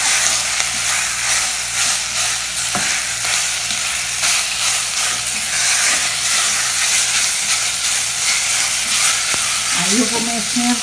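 Tuscan sausage frying with bacon in its own fat while being stirred and broken into crumbs, a loud steady sizzle and crackle with scraping stir sounds throughout and a brief tonal squeak near the end.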